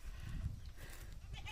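A goat bleats in its pen, one faint, short, wavering call against low background noise.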